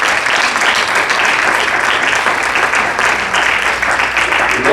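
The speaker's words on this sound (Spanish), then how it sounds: "dale ese fuerte aplauso al Señor" A church congregation gives loud, sustained applause during a service, a dense, even wash of clapping from many hands that stays steady from start to finish.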